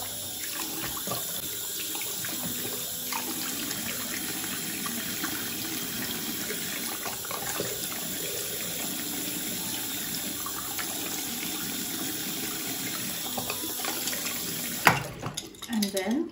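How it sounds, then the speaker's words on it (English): Water runs steadily from a tap, splashing into a pet water bottle being rinsed, with a few clunks and rattles near the end. "And then rinse it off."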